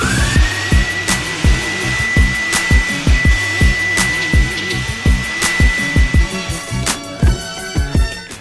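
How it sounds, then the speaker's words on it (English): Vehicle blower drying an Aston Martin Vanquish S, a steady high-pitched motor whine with rapid rhythmic thumps and gusts of air from the blower, close and loud throughout. "again, I am back out with the vehicle blower"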